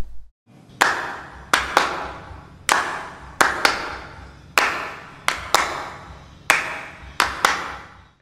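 Hand claps in a rock mix: several people clap together in a loud, regular rhythmic pattern, each crisp clap ringing briefly before the next, with a low instrumental bed underneath.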